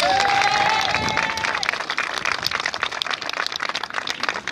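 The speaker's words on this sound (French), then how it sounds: "il va falloir nous applaudir davantage" An audience claps and cheers at a street comedy show in Marseille's Old Port, a loud crowd burst that thins into scattered clapping, with a voice heard over the start.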